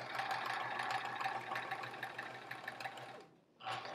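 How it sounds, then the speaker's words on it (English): A sewing machine stitches a quilt top to its bottom piece in a fast, steady mechanical run close by, pausing briefly near the end before starting again. "we're just sewing the whole top piece to this whole bottom piece"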